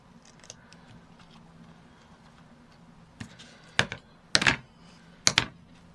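A few sharp, brief snips of scissors trimming paper edges, three or four clustered cuts near the end after quiet rustling.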